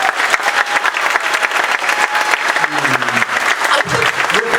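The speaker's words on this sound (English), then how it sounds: "Can we hear a hearty applause?" Sustained applause from a large audience at an elementary school spring concert, loud, dense clapping that carries evenly through the whole stretch, with a little crowd noise mixed in.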